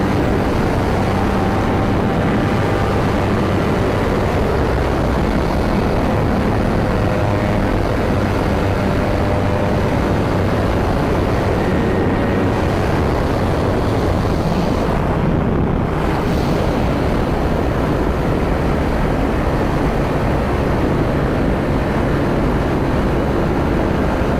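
Motorcycle engine pulling hard under added throttle through a turn, a loud, steady roar blended with heavy wind rush across the whole stretch, with no talking.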